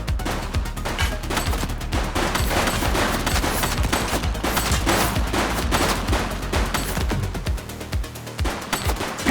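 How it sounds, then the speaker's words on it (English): Sustained automatic gunfire crackles throughout a police shootout in a video game, dense rapid bursts that stay loud and continuous without letup. "Shots fired!"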